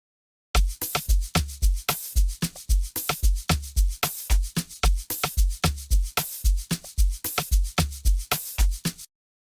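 The third amapiano drum groove made in FL Studio runs as a dense, even loop of booming kicks and crisp high percussion hits at full volume, ending cleanly with no speech.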